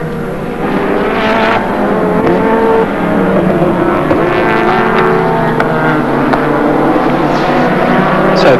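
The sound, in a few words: touring race cars driving, Caltex Sierra at Amaroo Park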